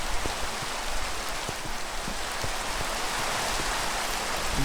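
Steady rain pours down in a Minecraft world, a dense, even hiss with scattered drop taps, loud and continuous with no talk.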